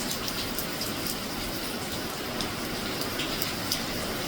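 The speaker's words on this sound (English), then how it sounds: "Heavy rain and wind." Heavy rain and wind lash down during a big storm in Westmoreland, Jamaica, heard from a veranda as a steady, dense hiss of rainfall that holds evenly throughout with no voices.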